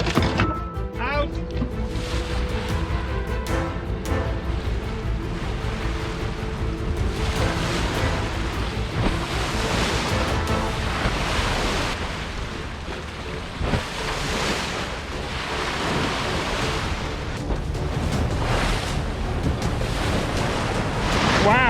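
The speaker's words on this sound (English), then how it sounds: "There's no wind, but the sea is just boiling" Rough, boiling sea churns between islands on a windless day, heard from a sailboat as continuous loud wave wash and surf with heavy rushing noise throughout.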